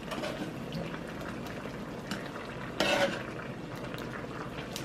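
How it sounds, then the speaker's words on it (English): Jamaican curried chicken being stirred in a pot of liquid, with soft wet sloshing and faint scraping, a brief louder stir near the middle, close and fairly quiet without talk. "So I'm just gonna you know, give it a little stir."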